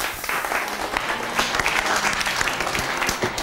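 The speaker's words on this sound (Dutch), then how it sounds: "een enthousiast en warm applaus voor Pieter Champens" A television studio audience gives a guest on the Dutch-language show RITS KRAS a warm round of applause, a continuous, lively patter of many hands clapping nearby, loud and unbroken for the whole stretch.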